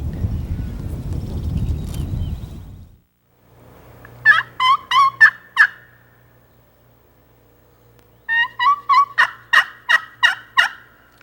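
Wild turkey kee-kee run calls, two sequences of sharp rising whistled peeps followed by yelps, clear and fairly close, after a few seconds of rustling noise at the start.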